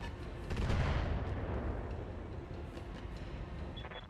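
Sniper artillery fires in the BattleTech mod Roguetech, a heavy booming blast that swells early and rumbles on with crackling debris, loud and close with no talk over it.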